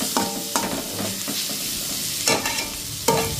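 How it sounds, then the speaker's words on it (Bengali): Pointed gourd and potato pieces fry in oil with salt and turmeric. A steady close sizzle runs throughout, broken by several sharp scraping stirs of a spatula against the pan. "শুধু নুন আর হলুদ দিয়ে ভাজছি।"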